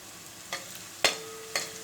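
Small onions dropped into a pan of minced meat fry with a low steady sizzle, broken by three short scraping clatters of stirring, close and fairly quiet.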